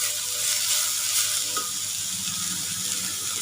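Chopped onions sautéing in oil in a pan for egg onion samosa stuffing, giving a steady, close hiss of sizzling with light stirring scrapes throughout, no voices.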